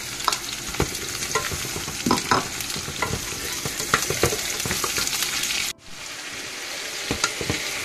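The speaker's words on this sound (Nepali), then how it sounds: "अब प्याज दिन्छु मजाले प्याज र आलु चाहिँ सँगसँगै जस्तो नै फ्राई गर्छु" Onion and potato fry together in oil in a Nepali home kitchen, giving a steady close sizzle broken by frequent sharp scrapes and clicks of stirring, with a brief dip near the end before the sizzle resumes.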